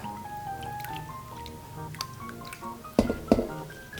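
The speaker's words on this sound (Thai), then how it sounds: "ลงมาแช่ครับระหว่างแช่เราก็กระจายกระจายแผ่นนะครับ" Thin potato slices soaking in vinegar water are pulled apart by hand, giving soft wet drips and squishes that end in two sharper splashy knocks, over a steady background hum and faint tonal noise.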